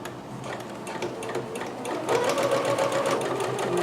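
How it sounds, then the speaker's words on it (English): An electric sewing machine stitching kimono panels together runs at a steady pace with a rapid, even needle clatter over a constant motor whir, close by and moderately loud. "I'm just going to keep stitching this until there's nothing else left here to stitch together."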